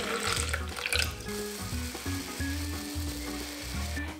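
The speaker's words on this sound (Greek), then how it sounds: "Προσθέτω νεράκι." Water runs in a thin, steady, close stream as it is poured into a raspberry purée in a home kitchen, with soft splashing and gurgling and no talking.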